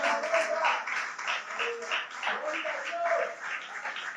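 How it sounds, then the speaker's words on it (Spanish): Applause and clapping fill a Spanish-language Friday church service as the congregation claps for God, a continuous crowd sound mixed with voices and cheering, fairly loud and close. "Dale fuerte ese aplauso a Dios."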